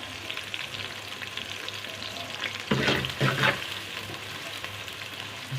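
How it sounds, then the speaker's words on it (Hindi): Onions frying in hot ghee for a peas and potato pulao, a close continuous sizzle with a brief burst of louder stirring and crackling near the middle. "घी हमारा गर्म हो गया। प्याज को ब्राउन कर लेंगे।"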